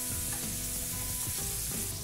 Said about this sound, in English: You got a hot pan. Listen to the sizzle.